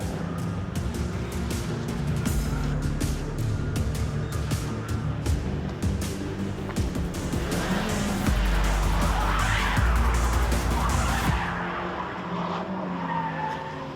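Race car skidding on a skid pan during driver training, a continuous loud rumble of engine and tyre scrub with squeals and broadband hiss rising midway before easing off, no talk.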